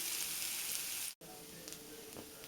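Onions sizzle and fry on a Cobb barbecue, a steady broadband hiss with faint scraping from stirring, broken by a brief moment of silence before the frying resumes.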